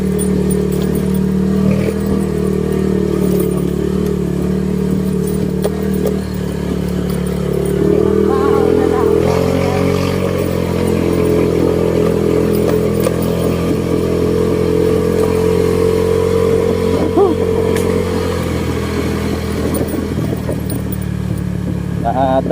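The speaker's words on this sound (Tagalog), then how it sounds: "Motor, abi mo na pamatian mo." A motorcycle engine runs in a steady, loud, close drone for the whole stretch, with people talking over it.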